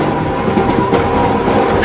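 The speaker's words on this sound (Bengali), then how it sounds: "হুড় করে ছুটে যাওয়া ট্রেনটা থেকে থেকে কেমন যেন নিঃশব্দ হয়ে যাচ্ছে।" A speeding train rushes past close and loud, a dense rumbling roar with faint rhythmic rattling of the cars running through the short stretch.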